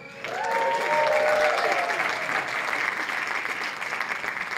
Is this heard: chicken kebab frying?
no